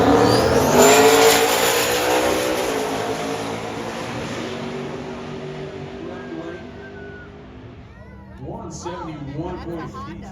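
Race cars launching side by side on a four-wide drag strip, a loud high engine whine that sweeps and fades as the cars pull away, then a nearer revving burst near the end.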